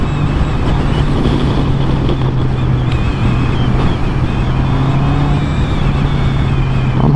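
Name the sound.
road traffic passing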